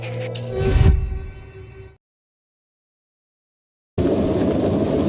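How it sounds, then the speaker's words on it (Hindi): A deep rumbling swell fades into two seconds of silence, then a dense, steady roar of heavy rain over a village at night cuts in abruptly. "उस रात गांव में तेज बारिश हो रही थी।"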